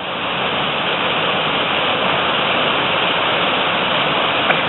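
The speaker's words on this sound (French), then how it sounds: "on a vu ce ruisseau qui coule, là, des montagnes" Mountain stream on the climb into the Bauges massif near Saint-Marcel-d'en-Haut, rushing water heard as a steady, loud, close broadband roar that holds unbroken for the whole stretch with no voices.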